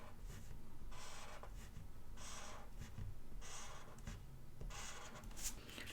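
Pen drawing lines across planner paper, a soft rhythmic scratching in repeated strokes of about a second each, close and steady with short pauses between.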